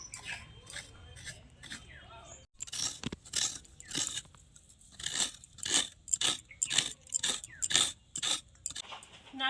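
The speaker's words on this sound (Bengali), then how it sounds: "এখন নারকেলটা কুড়ে নেবো" Fresh coconut being scraped by hand, a series of rough crunchy scraping strokes in an irregular rhythm, close and moderately loud.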